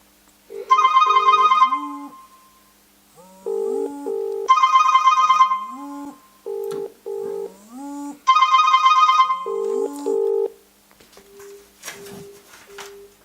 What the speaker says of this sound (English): on my phone, I am now going to call the watch.